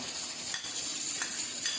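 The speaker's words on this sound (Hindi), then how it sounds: "तो देखिए तड़का हमारा फ्राई हो चुका है।" Tadka of oil, garlic and ginger for chana pulao frying in a pan while being stirred: a steady close hiss and sizzle with a few soft scraping stirs, no talk.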